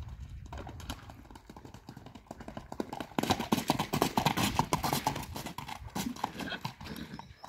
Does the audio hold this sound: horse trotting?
yes